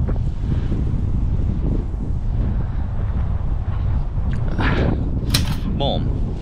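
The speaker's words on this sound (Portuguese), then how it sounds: "Olha o vento." Strong wind gusting and roaring steadily across an island, loud and close, buffeting the microphone throughout.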